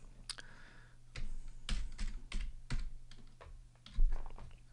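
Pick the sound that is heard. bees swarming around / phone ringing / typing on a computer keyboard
typing on a computer keyboard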